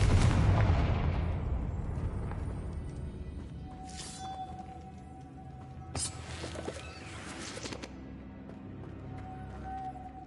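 Loud, booming explosion from the Confringo blasting spell in the Hogwarts Legacy video game, fading into a rumbling decay, followed by scattered debris crashes and game sounds.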